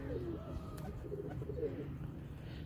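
Domestic pigeons of a Chinese breed cooing in low, steady, throaty calls that continue without a break, close by and moderately loud over a faint background murmur.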